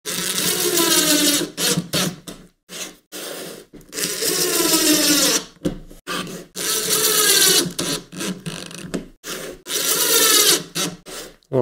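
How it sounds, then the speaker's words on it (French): A power tool chamfers drilled holes in poplar plywood panels, running in loud, close bursts of whirring and grinding separated by short pauses, about six or seven bursts in all. "Je chanfreiner un peu les trous."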